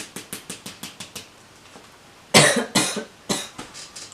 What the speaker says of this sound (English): I can't control the coughing